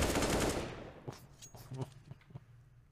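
Automatic rifle bursts in a Counter-Strike: Global Offensive professional match on the Mirage map, loud rapid fire at first fading into a few sharp separate shots, with commentary voices over it.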